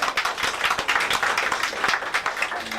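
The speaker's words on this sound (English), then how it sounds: "let's give them a big round of applause" An audience at the State Capitol Building gives a round of applause, many hands clapping at once in a dense, continuous patter that stays steady and fairly loud throughout.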